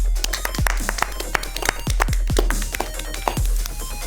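A studio audience of a comedy gaming podcast claps in scattered, uneven bursts during guest introductions, the sharp claps sitting over a steady low room hum.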